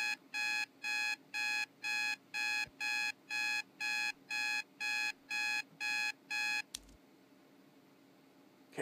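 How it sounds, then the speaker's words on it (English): Electronic alarm clock in the video game Loving Life, beeping in a steady fast series of about a dozen bright, evenly spaced tones before cutting off abruptly into quiet background hiss. "The alarm clock called for me 3 hours before my appointment."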